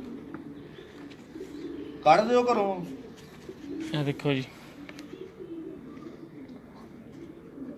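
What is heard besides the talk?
racing pigeons cooing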